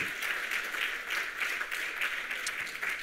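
An audience at an international conference on age-friendly cities applauds a sociology researcher, a steady, moderately loud wash of many hands clapping in a hall, heard alone.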